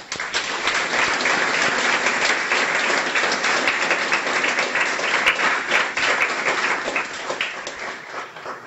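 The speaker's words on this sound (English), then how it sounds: "a round of applause for all the graduates" Sustained, full applause from a crowd at a guide dog school graduation ceremony, dense and even for several seconds with no talking over it.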